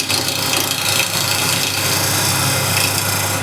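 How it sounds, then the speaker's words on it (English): Refiner scraper drawn lightly along a painted wood curve, a close, continuous dry rasping scrape that stays even and loud throughout, raising fine dust, with no talking. "the way I like to approach and finessing this curve is using my refiner scraper, just a light touch, and I'm just blending the curve"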